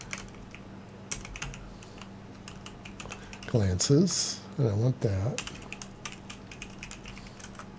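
Typing on a computer keyboard during Linux terminal work, quick irregular clicks near the microphone while someone speaks briefly in the middle.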